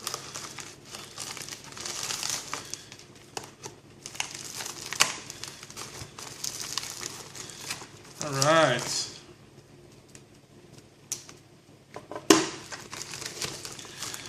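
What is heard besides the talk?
crinkling packing paper while unboxing a knife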